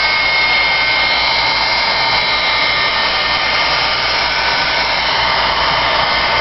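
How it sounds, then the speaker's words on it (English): Heat gun blowing steadily on painted cardstock during drying, a loud continuous rushing whir with an even roar throughout and no pauses. "You can use your heat gun"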